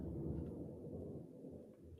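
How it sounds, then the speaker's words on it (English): Distant thunder rumbles low and steady through the whole stretch, a faint, rolling outdoor storm with no talking over it. "Is that thunder? It is thunder"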